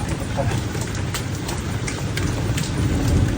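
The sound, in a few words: rain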